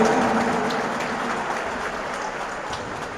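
Steady, dense applause fills a gym crowd cheering a player named Duarte at a charity basketball match, holding loud and even throughout, with no voices standing out.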